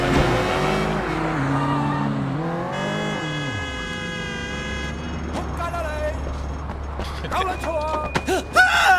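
A stolen car in Sleeping Dogs revs and accelerates with rising engine tones, then its tires squeal in sharp bursts toward the end, loud and close with no talking.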